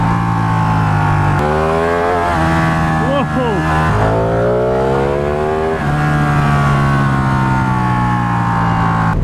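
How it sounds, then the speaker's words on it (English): A Ducati 1299 Panigale motorcycle engine revs loudly and close. The strong tone shifts pitch up and down across several throttle changes, with a brief voice over the engine. "We're just coming back from riding the Ducati Panigale."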